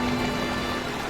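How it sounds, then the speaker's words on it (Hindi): Heavy rain falls in a dense, continuous hiss close by. It is loud and steady throughout, with no voices over it. "बारिश बहुत ज्यादा तेज थी।"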